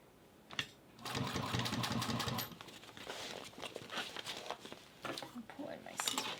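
Industrial Juki sewing machine stitching in a steady, continuous run, loud at first and then quieter and broken into short bursts, with a person talking over it.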